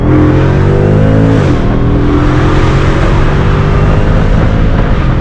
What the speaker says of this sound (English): We're going to go for a test drive in a 800 wheel horsepower Hellcat.